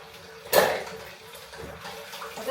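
Water runs from a tap in a home sink while something is being washed, with a sudden gush near the start and then a steady, moderate splashing close by, with no talking.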